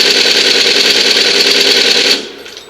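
Sustained rapid automatic fire from a Maverick A2 rifle in a shooter video game, a loud continuous burst of closely spaced shots that cuts off abruptly near the end, with no talking.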